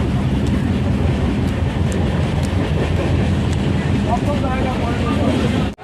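A moving passenger train rumbles loud and steady from inside the carriage, with continuous clattering wheel noise and a dense low roar, while people talk over it.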